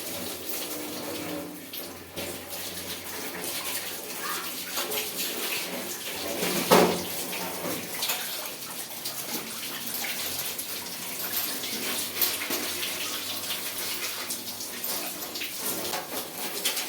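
Running water splashes and pours steadily while a steel stand is washed, a continuous close rush with small clatters and one brief louder knock midway.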